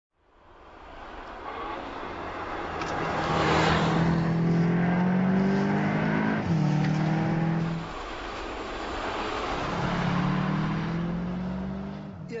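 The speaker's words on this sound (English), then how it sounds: "The corner exit acceleration of that car is just unbelievable." A Volkswagen Arteon R accelerates hard on a mountain road, its engine note rising and falling through gear changes in a loud, sustained surge lasting most of the stretch.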